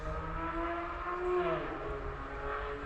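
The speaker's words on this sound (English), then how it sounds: "I think that's a car actually." Near an off-road area, a faint, distant engine hums with a steady tone that shifts pitch slightly as the vehicle passes; no one speaks over it.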